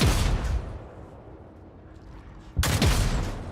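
Pistol gunfire in Warhammer 40,000: Rogue Trader, two loud, close bursts of shots with a quieter stretch between, the second burst ringing out sharply after a pause.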